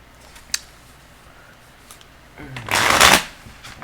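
A single close, crisp riffle of tarot cards being shuffled, lasting under a second, after a quiet stretch with a small tap.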